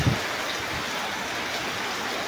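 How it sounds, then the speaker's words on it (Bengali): Heavy rain keeps pouring steadily, a dense, even hiss of downpour with no breaks and no voices. "অনেকক্ষণ ধরে বৃষ্টি হইতেছে"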